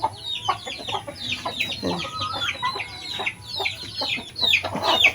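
Hens cluck and chatter close by while their third batch of new chicks peep in high, rapid bursts, the calls overlapping in a busy farmyard jumble.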